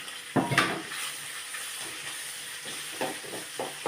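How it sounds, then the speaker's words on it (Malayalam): Sliced ginger and garlic dropped into hot sesame oil while making fish pickle, a sharp burst of sizzling followed by quieter crackling and occasional stirring clatter, close up with no talk. "ഇനി ഞാൻ ഇഞ്ചി നീളത്തിലരിഞ്ഞത് ഇടുക വെള്ളത്തുള്ളി ഇടുക"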